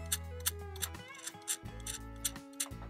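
Small metal thumb screws spun by hand onto nuts while assembling a DIY kayak J-rack rooftop mount, giving a run of light, quick ratcheting clicks and taps close by, with a low hum under the first second.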